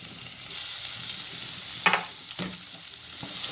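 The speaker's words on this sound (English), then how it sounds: "Now we'll add 2 onions, finely chopped." Finely chopped onions and cashews sauté in a pan, a soft steady sizzle with a sharper burst as the onions drop in, followed by a couple of stirring scrapes, quiet and near, with no voices.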